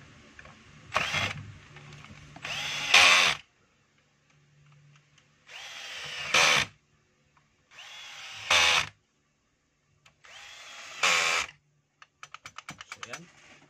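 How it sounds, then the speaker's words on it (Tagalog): A power screwdriver tightens a screw on a Makita 4131 circular saw, running in several separate whirring bursts of a second or two, close and fairly loud, with quiet gaps and a quick rattling of clicks at the end. "lalagay na natin yung screw. At higpitan na po natin."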